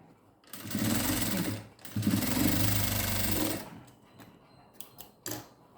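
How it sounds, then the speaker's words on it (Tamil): A sewing machine stitches piping onto a blouse sleeve, running in two close, loud bursts of rapid needle chatter with a brief pause between, followed by a few light clicks and handling noises. "நம்ம பைப்பிங் வைக்கும்போது எப்போவுமே நான் இன்னொரு படிமான தையல் போட்டுருவேன்"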